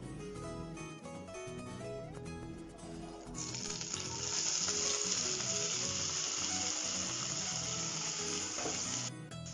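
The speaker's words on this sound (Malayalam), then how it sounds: "ഇനി നമുക്ക് ഈ സെയിം പാത്രത്തിലോട്ട് തന്നെ 1 ടേബിൾ സ്പൂൺ നെയ്യും കൂടെ ഒഴിച്ചിട്ട് നമുക്ക് സവാള" Onions sautéing in a tablespoon of ghee in a pan, a steady close sizzle that swells louder partway through and holds to the end.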